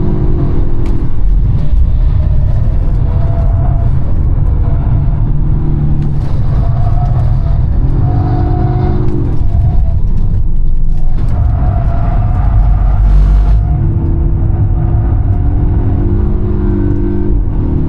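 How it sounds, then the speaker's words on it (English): A Polestar 1 drives hard on a race track at wide open throttle, recorded from inside the cabin. A loud, continuous engine roar rises and falls in pitch through repeated gear changes and acceleration, with rumble throughout. "You can just sit back, relax, and ride the Polestar Express at wide open throttle"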